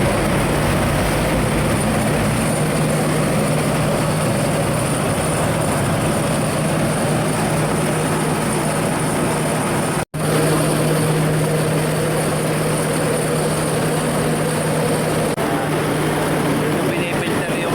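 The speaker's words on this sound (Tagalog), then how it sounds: "mag-i-start na nitong makina ng ating bayuhan." The engine of a rice milling machine runs at a steady, loud drone with a constant hum and whine, broken once by a brief cutout, with talk faintly underneath.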